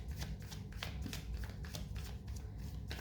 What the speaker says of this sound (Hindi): साथ ही हम पुल कर रहे हैं कार्ड्स जो